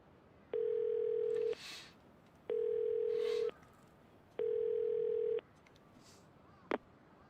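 Telephone dialing and ringing in the video game Yakuza 0: three steady, loud ring tones of about a second each repeat at even intervals, followed by a sharp click as the call connects.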